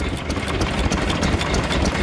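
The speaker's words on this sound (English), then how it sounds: "So the Lister engine, it's a Lister L, that one, from probably 1920s or early 30s" An old Lister L stationary engine with a trip magneto, from the 1920s or early 1930s, runs at a steady idle at a steam rally, with a quick, even, close chugging beat.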